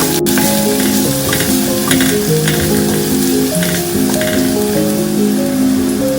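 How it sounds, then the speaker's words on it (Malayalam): Five cloves of garlic sauté in butter in a pan for white sauce pasta, giving a steady, close, dense sizzle with light stirring scrapes throughout and no voices. "നമ്മുടെ ഗാർലിക് ഇവിടെ ഒന്ന് സോട്ട് ആക്കിയിട്ടുണ്ട്"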